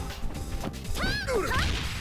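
A shatter strike lands in a fighting video game with a sharp crash and whack. Swooshing, chiming effects follow and ring out over a busy, noisy background.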